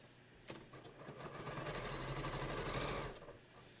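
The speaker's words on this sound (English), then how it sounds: "so now I'm going to do the bottom, and I'm going to start sewing here" A sewing machine stitches across the bottom of a fabric beach tote, starting abruptly with a rapid, steady mechanical whir that runs for about two and a half seconds before stopping.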